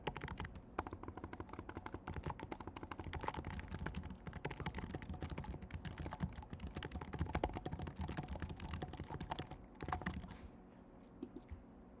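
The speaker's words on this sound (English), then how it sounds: "I'm typing. It's just type to type." Someone types steadily on a computer keyboard while coding, producing a dense, continuous patter of quiet key clicks. The clicks are close and fairly faint, with no voices, and slow to a few scattered taps at the very end.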